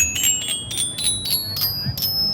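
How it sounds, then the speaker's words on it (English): Bell-like tones played on an Artiphon Orba 2 handheld instrument, a sampled bike bell sound repeated about seven times in a steady rhythm, each a bright ringing strike over a low background murmur at a trade show. "take a sound like a bike bell and turn that into a musical instrument"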